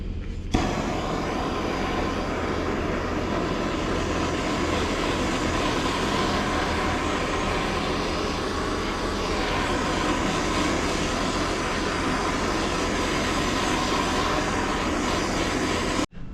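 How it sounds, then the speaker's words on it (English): A propane torch burns steadily on a sandblasted vintage Astro candy machine part, giving a loud, continuous roaring hiss with no breaks from start to finish. "you should hit it with a propane torch and it helps burn off impurities"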